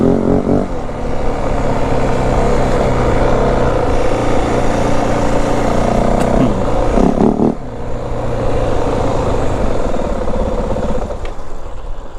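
A 2025 Yamaha WR450F dirt bike with a restricted stock exhaust lugs along at low revs while being ridden, giving a loud, steady engine drone that dips briefly midway before carrying on.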